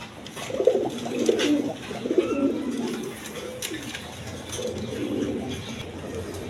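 A female Bondinet pigeon with a crested head coos in several low, rolling phrases close by, with brief pauses between bursts and faint background noise.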